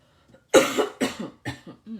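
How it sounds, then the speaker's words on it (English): A person coughs several times in quick succession, close up, each cough harsh and separated by brief pauses. "Sorry, I got the coughs today."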